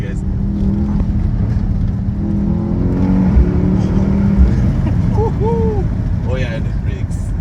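2025 Mercedes-AMG GLS63 engine pulling hard in second gear on a suburban road, a loud, continuous low growl heard from inside the cabin with a window down, with other traffic around.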